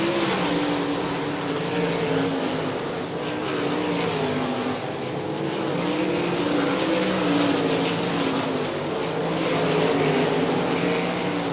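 A pack of World of Outlaws sprint cars roars around the Hartford, Ohio track, a loud, continuous layered engine drone that swells and fades slightly as cars pass.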